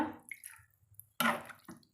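Water from a tumbler is poured into a simmering potato masala gravy in a cooking pot, giving a couple of short splashing, dripping bursts with quiet gaps between them and no talk.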